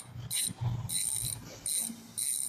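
A Primo BMX rear hub freewheeling, giving four short bursts of bright, buzzing ratchet clicks separated by brief pauses, close and clear with no talking.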